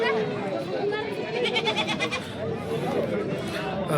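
Goats bleating at a village goat market, wavering cries rising over a dense murmur of crowd chatter, with someone speaking close by throughout.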